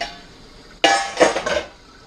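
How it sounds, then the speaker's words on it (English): A metal wort chiller lowered into a home-brewing pot gives a sudden loud clank, then a couple of quicker metallic knocks and clinks that fade within a second. "It's all about getting the wort chiller in at this point."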